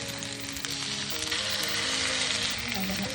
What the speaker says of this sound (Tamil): மீனை திருப்பி வச்சுக்கலாம் வாங்க